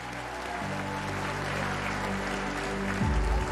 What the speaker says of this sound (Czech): Poprosím vás o velký potlesk pro celou pětici